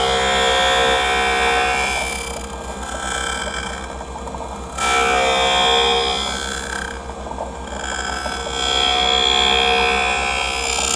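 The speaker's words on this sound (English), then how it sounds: "now it is actually moving over to get the bevel placed on the lens so it fits inside the frame" An optical lens edging machine bevels the edge of a transitions anti-glare eyeglass lens for a Ray-Ban 2132 frame, giving a loud, steady mechanical whir and grind with shifting pitch and brief dips, close by with no talk.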